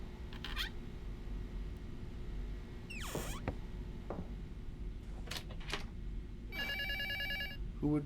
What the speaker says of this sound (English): Who would call so late at night?